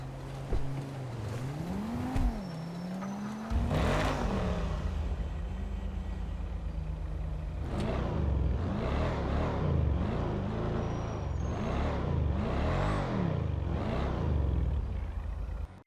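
The Schafter V12 luxury four-door sedan in GTA 5 idles and then revs its engine, the pitch rising and falling, before a loud, rumbling acceleration with repeated surges of revving and gear changes.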